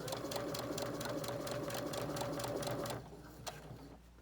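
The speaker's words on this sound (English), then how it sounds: "I'm going to stop and take out the clip and continue sewing down this seam allowance" A sewing machine runs steadily at close range, stitching down the seam allowance of a lined drawstring bag with a fast mechanical whir, then stops abruptly and leaves a quiet pause with one small click.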